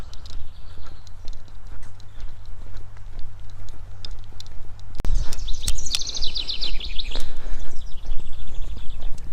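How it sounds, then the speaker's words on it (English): Birds chirping in woods beside cornfields, a series of short high calls over a low outdoor rumble, getting louder and busier halfway through as nearby footsteps join in. "Can you hear the birds?"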